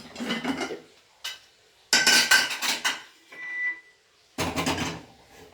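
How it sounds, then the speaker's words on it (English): A pressure cooker is set down on a home kitchen stove with several sharp metallic clanks and scrapes in short bursts, close and fairly loud, separated by brief silences. "First, we must put the cooker."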